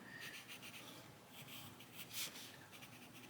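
Pencil sketching on paper for a colouring illustration, soft close scratchy strokes in short repeated bursts, quiet and steady.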